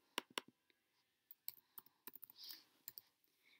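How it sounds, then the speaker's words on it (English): Soft, faint clicks from a computer keyboard as a short answer is typed in, arriving in an irregular cluster of light taps with quiet gaps between them. "we'll just type it in"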